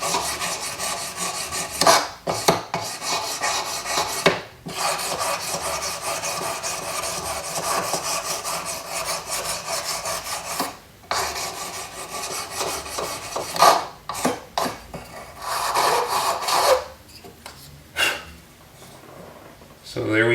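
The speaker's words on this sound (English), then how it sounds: "Of course, sandpaper at first. And then we'll go to the final sandpaper." Sandpaper is rubbed over a small metal sword pendant, a broadsword with ruby accents, in steady close rasping strokes that continue for a long stretch with brief pauses.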